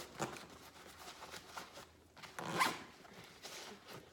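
A zipper closing a pocket on a Black Diamond Creek backpack: several quick, close rasping pulls with short pauses between them.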